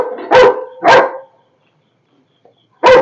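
Three sharp, loud barks from a dog, two in quick succession and then a third after a pause of about two seconds. The dog is close by, no one speaks, and the dog is agitated while a monocled cobra is being caught.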